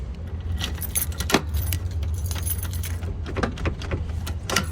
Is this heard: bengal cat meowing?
no